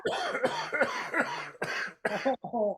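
A person coughs repeatedly with a deep, wet chest cough, a run of close, loud hacking bursts with short gaps, ending in a couple of rougher coughs.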